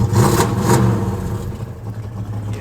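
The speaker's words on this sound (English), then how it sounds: "Hear that custom exhaust?" Close, loud engine of a classic Ford Mustang with rotted-out mufflers, two quick revs blipping up before easing into a throaty, rumbling idle.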